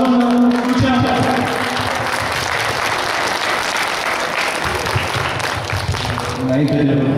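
Audience applause at a gathering for a youth football school in Reșița, Romania, a dense, steady wash of clapping filling the room with voices and cheers mixed in throughout.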